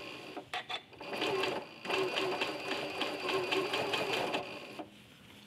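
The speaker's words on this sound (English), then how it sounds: "So I'm going to start by sewing that gentle curve." A sewing machine fitted with a walking foot quilts a gentle curve, opening with a few short stitching bursts, then settling into a steady, close, moderately quiet mechanical hum that runs for several seconds before stopping.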